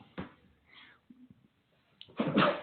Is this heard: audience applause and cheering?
no